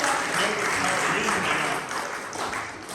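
A church congregation cheers and applauds for Jesus at a bilingual French and Dutch service, a steady dense wash of clapping and crowd noise running through the whole stretch without a break, fairly loud and even.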